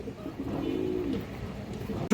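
Pigeons, including a red khaki male, coo softly and steadily for about two seconds, the low murmuring close by and moderately quiet, ending in a brief louder burst.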